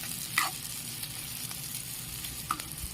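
Gobindobhog rice frying gently on a low gas flame for basanti polao gives a steady soft sizzle, with a couple of brief clinks from a utensil and no talking.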